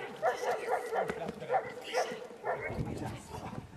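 A dog during tracking training gives a run of short, excited yips and barks about every half second, then whimpers, close by with a person talking and encouraging over it.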